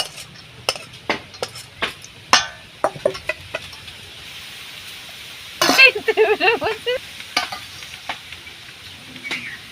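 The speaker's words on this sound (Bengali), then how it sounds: "বন্ধুরা বোঁদেটা আমি এরমভাবে চারিদিকে নাড়িয়ে নেবো, নিলে সব জায়গায় রসগুলো ঢুকে যাবে।" Boondi being stirred in sugar syrup, with repeated sharp clinks and scrapes of a spoon against the pot, then a burst of wet stirring, and a voice speaking in between.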